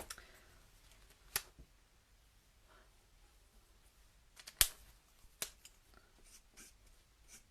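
Quiet, close scissor snips and small clicks as paper card is cut around by hand, with sparse isolated sharp snaps over a near-silent background.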